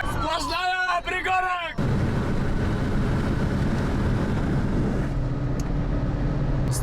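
Steady, loud roar of a Renault car cruising at high speed on a long highway run, dense wind and road noise filling the whole stretch, with someone talking over it at the start.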